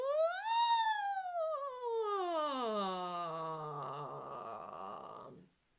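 A single voice imitates a siren, sliding smoothly up and then gliding down in pitch over several seconds before trailing off, clear and alone.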